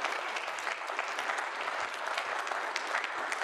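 An evening lecture audience applauds the speaker, a dense steady clatter of many hands clapping at once, sustained and even for the whole stretch with no voices on top.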